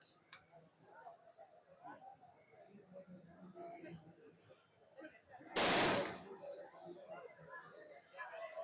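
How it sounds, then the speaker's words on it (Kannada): A fire-lit bomb device used to scare monkeys from farm plantations goes off in a single loud, sharp blast at an agricultural fair, standing out against a background of crowd chatter and nearby talk. "ಬಾಂಬು ಇಲ್ಲೇ ಬ್ಲಾಸ್ಟ್ ಆಗೋದು."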